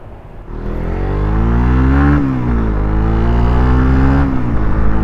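Suzuki Raider 150 FI motorcycle accelerating through the gears: a loud, close engine note rising in pitch, dropping briefly at a shift, then climbing again, with no talk.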